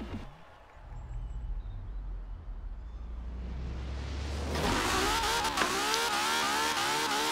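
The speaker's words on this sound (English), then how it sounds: "listen to that engine. It's so angry. It's just yelling. Screaming." A stock 2017 Ferrari 812 Superfast V12 in Forza Horizon 4 starts low and idling, then climbs into a loud, snarling rev that holds near the end, heard alone without talk.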